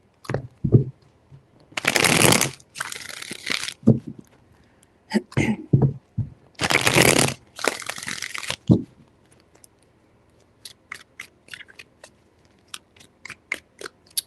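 Tarot cards are shuffled by hand in several bursts of crisp riffling and flapping, two longer shuffles separated by quieter taps, then scattered light clicks of cards being handled.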